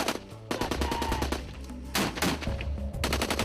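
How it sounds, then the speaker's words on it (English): Live-fire military assault with 81mm and 60mm mortars and gunfire: loud bursts of rapid automatic fire, several sustained volleys broken by short gaps, heard close, with no speech. "closing on those fires of 81mm mortars and 60mm mortars"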